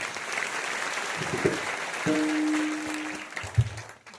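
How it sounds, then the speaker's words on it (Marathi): A kirtan audience at a Harinam Saptah gathering claps in a steady, moderately distant patter with a brief sustained tone and a few sharper knocks near the end. "जोरात टाळी वाजवा हे लेकरासाठी आदर्शसाठी"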